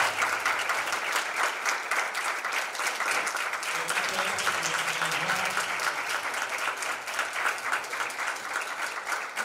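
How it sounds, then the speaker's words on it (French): A congregation at a Bible study gathering gives sustained, dense applause to welcome a speaker, continuous clapping from many hands with a faint voice rising briefly beneath it midway. "Un applaudissement pour notre bien-aimée sœur Marie-Louisa"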